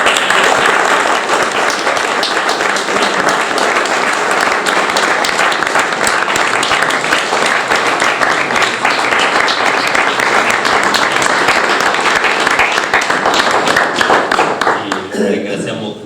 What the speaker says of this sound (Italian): Facciamo un altro applauso per ringraziare.